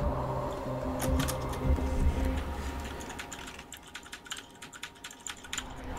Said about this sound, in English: That's some pretty aggressive key typing right there.